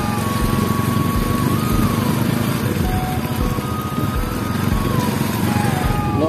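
An old motorcycle engine drones steadily while riding with friends near a park in Padampur, with a close, continuous buzzing hum, slight pitch shifts and rushing wind noise throughout.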